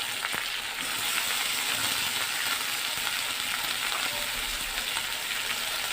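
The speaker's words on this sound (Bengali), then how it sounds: "এবার ওই তেলের মধ্যে ঢেঁড়সের টুকরোগুলো দিয়ে দিলাম।" Okra pieces fry in hot oil in a pan with a loud, continuous, close sizzle and crackle that holds steady throughout.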